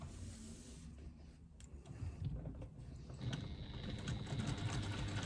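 A sewing machine runs lines of stitching on a fabric pouch, a quiet, steady whirring hum that grows slightly louder toward the end.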